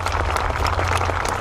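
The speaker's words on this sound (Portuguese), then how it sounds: "Essas palmas com muita força." An outdoor crowd in the Jardim Municipal in Funchal clapping hard at a Christmas carol singing festival, dense applause over a low steady hum of the venue's sound system.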